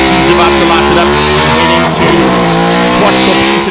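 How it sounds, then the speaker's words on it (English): A KTM race car at a hill climb at Zwartkops, its engine loud and close with a sustained high-revving note and shifting pitch across the whole burst. "I love the sound of that KTM sounding good."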